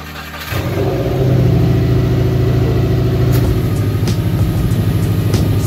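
A Subaru WRX engine catches at about half a second and settles into a steady, loud idle with a low rumble, close by in a cold garage setting, with no talk.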